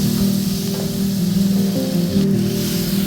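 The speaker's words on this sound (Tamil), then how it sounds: "தக்காளியை நல்லா வதக்கி விட்டுக்கலாம்" Tomatoes sauté in a pan for a kendai fish curry, giving a continuous close sizzle with a faint spatula scrape mixed in.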